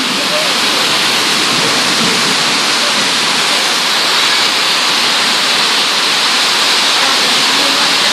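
Heavy rain pours down loudly and steadily, a dense, close hiss and roar that never lets up across the whole stretch, during a downpour heavy enough to flood the area out front.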